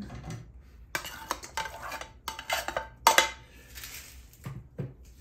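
A spoon stirs tomato, bay leaf, onion and garlic together in a cooking pot, giving close, irregular metallic clanks and scraping bursts with short pauses between them and no talking.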